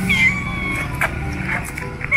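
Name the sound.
cat meowing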